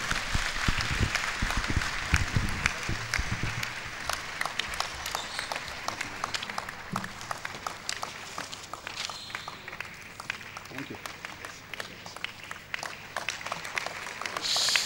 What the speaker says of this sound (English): Shall we sustain the applause?